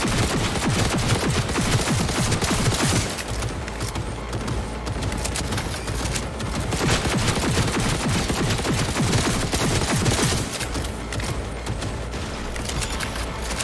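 Sustained, dense barrages of gunfire from a boss fight against Sasquatch in Cyberpunk 2077 on hard difficulty, continuous and loud with constant overlapping shots.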